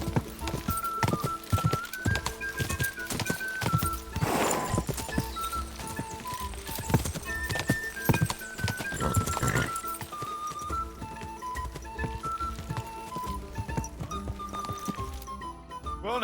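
Hooves clip-clop in an uneven walking rhythm, close by, with faint voices and a few other sounds in the background.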